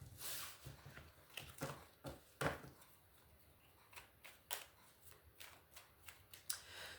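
Tarot cards shuffled by hand, a close, quiet series of soft riffling and tapping bursts in uneven rhythm, with no talking.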